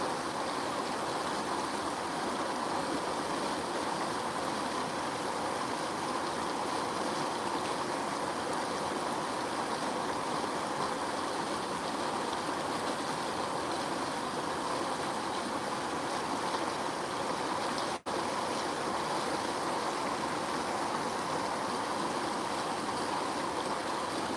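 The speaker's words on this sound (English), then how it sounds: "It's nice to hear the water." A flowing stream rushes steadily and evenly, a constant broadband wash of water close by with no pauses and only a single faint click partway through.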